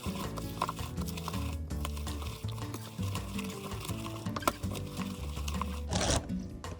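Potato pancake batter being mixed by hand in a bowl, a close, rapid run of wet stirring and scraping strokes with brief clacks and no talk.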